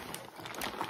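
A plastic bag of trail mix is handled up close, giving brief, faint crinkling rustles over about a second with no talking.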